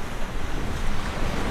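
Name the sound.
light breeze wind on shotgun microphone with windscreen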